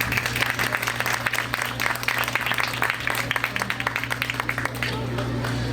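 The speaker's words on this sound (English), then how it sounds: "She definitely deserves a big round of applause." Audience at an Eid celebration gives sustained, dense applause with many overlapping claps and a low steady hum beneath, tapering slightly near the end, with some voices mixed in.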